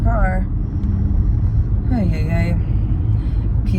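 A car rolls close by with a steady low engine and road rumble lasting throughout, a voice speaking over it.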